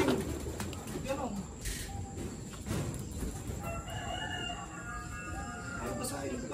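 Racing pigeons at a loft during a Grand Prix race, with soft bird calls and cooing amid steady outdoor background noise and some low chatter, moderately faint.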